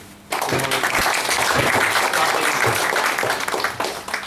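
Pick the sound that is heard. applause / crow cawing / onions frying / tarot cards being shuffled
applause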